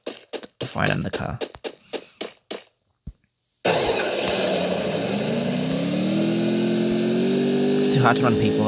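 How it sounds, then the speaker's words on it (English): A motorbike engine in the Free Fire shooter game starts up and runs with a steady, rising drone, following a stretch of choppy game sounds and a brief silence. "Hard to run people over with the motorbike."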